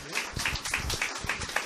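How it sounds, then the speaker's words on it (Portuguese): A small audience at a health presentation claps for a man, a short run of rhythmic, fairly close hand claps with a voice faintly mixed in. "Palmas para o senhor Arnaldo"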